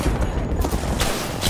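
Rapid fire from the Bocek bow in Apex Legends, a dense, continuous burst of loud shots and impacts packed into a short, unbroken stretch of shooter combat.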